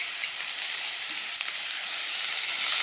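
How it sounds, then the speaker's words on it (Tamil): Radish, onion, tomato and garlic for a spicy radish chutney sautéing in a pan, a steady bright hiss and sizzle that holds evenly throughout with no talk. "நல்லா வதக்கிக்கணும்."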